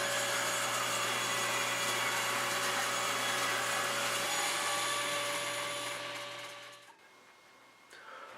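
A saw rips boards of recycled window-jamb wood into thin strips, a loud, steady motor whine with coarse cutting noise running for about seven seconds before the cut ends and the machine quickly winds down.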